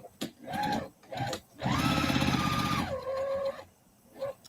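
A sewing machine stitching pieces of a butterfly quilt runs in short bursts, a rapid mechanical whir rising and settling, with quiet pauses between runs.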